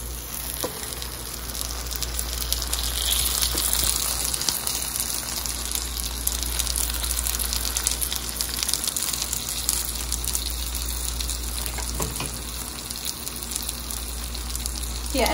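A tuna melt sandwich fries in a pan over medium-high heat with a steady, dense sizzle that runs continuously and close by, with no speech.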